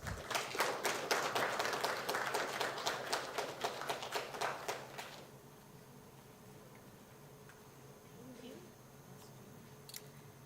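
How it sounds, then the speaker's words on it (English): Audience applause welcomes a keynote speaker onto the stage at an XR summit, a burst of clapping that fills the room for about five seconds, then cuts off into quiet room tone. "Let's give her a warm round of applause."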